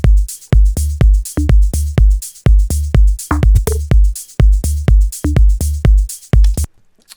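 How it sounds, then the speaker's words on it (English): A full electronic drum section with shakers, a kick and an 808, driving a punchy, loud groove of booming low hits and crisp percussive ticks in a steady repeating pattern, alone without voices. "This is the drum section."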